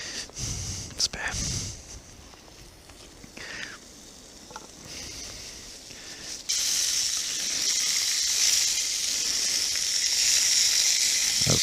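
Food frying over a fire outdoors in the woods, a steady broad sizzle that swells louder partway through, with quiet voices and small clatters early on.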